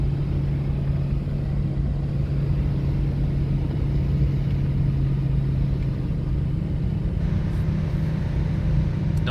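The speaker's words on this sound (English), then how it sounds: "Drop into first gear and spin out of there." A car engine drones in first gear with the wheels spinning on a rough track near Kaipara Harbour, a close, constant rumble with a steady low hum that shifts slightly near the end.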